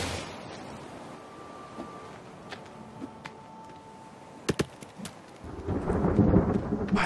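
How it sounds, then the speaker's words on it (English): Rain in a video game falls as a steady patter, with crackling thunder and a few sharp claps partway through, then swells into a heavier downpour near the end. "Why does it always start raining just before they come?"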